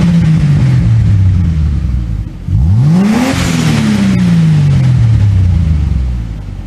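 A Ford FG Falcon XR6 Turbo with an Xforce 4-inch stainless catback exhaust revs close and loud, its pitch climbing in two sharp throttle blips, then settling back to a deep idle burble.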